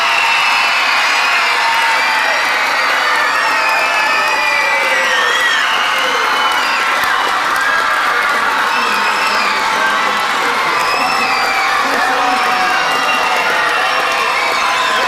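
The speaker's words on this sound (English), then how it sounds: "Please, a big round of applause." A large crowd cheers and applauds for the Teamsters crew at a holiday event, with shouts, whoops and children's voices over steady clapping that stays loud and dense throughout.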